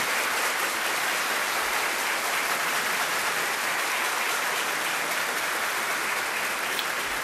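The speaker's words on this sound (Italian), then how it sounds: "un grande applauso per questi due partecipanti" An audience claps for two participants, a dense, steady round of applause that holds evenly throughout with no talk over it.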